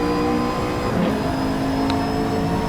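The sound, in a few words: car engine revving in the racing video game Assetto Corsa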